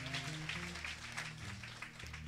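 Faint congregation clapping at a church service praising Jesus Christ, a soft continuous patter heard from a distance over a low musical hum.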